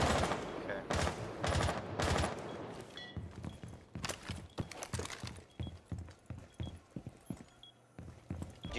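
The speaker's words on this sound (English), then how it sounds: "Guys, please stop now with shooting each other" Rapid gunfire in the video game Rainbow Six, bursts of sharp shots first in quick clusters then as a steady run of repeated cracks and thuds, fairly close and loud, with no talk over it.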